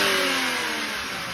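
A BMW 325i M Sport E90 engine with its stock intake, heard as a steady, loud mid-pitched engine drone with a gently sliding pitch through a short burst of revving, nothing else over it.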